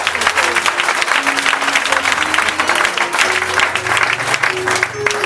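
A church congregation claps loudly and steadily for several seconds, a dense wash of hands with a low sustained tone underneath.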